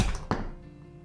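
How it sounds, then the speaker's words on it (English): A hammer dropped onto a resin 3D-printed figure lands with a single short, dull thunk that fades quickly. "Once again, hammer dropping on its own."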